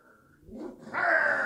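A single dog bark, loud and close, sounds indoors during a tabletop wargame session and follows a brief murmur of voices.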